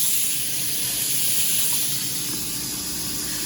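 Frozen burger patties sizzle steadily in a pan, a dense, even hiss that carries on unbroken at close range.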